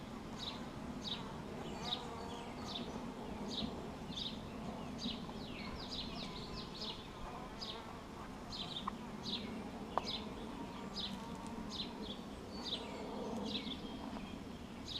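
Honeybees buzz around hive frames during a hive split, a faint, continuous hum with repeated short buzzy passes near and far, and a bird chirps quietly in the background.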